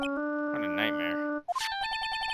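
A ringtone playing Dracula's theme in the Phoenix Wright: Ace Attorney Trilogy video game, a short electronic melody sounding under game voices and chiptune tones, fairly quiet and mixed with other game audio.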